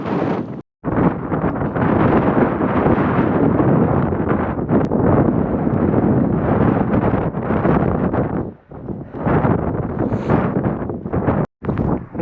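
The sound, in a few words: strong wind blowing at Hound Tor, Dartmoor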